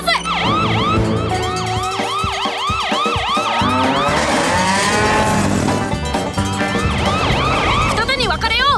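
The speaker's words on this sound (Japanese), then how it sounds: "サイレンを鳴らして。" A cartoon rescue vehicle from Paw Patrol sounding its siren, a loud repeating wail with rising and falling sweeps, joined by mooing cattle on a railway and some background music.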